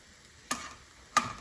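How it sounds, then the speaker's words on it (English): Garlic cooking in an oil-based tomato and onion seasoning for sukha dal, stirred twice with two short scraping bursts over a faint frying hiss. "The garlic is almost cooked."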